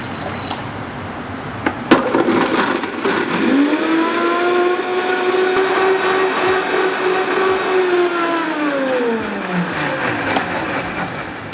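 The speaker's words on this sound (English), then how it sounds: "So I'll add everything into the blender and then I'll be adding on some water." A blender motor grinding spices and water whirs up and holds a steady, high-pitched grinding hum for several seconds, then winds down, with a brief clatter just before it starts.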